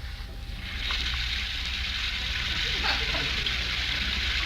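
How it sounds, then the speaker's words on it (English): An upstairs shower runs with a steady, hissing rush of water that swells after the first second and then holds evenly until the end. "While upstairs, we hear the sound of the shower."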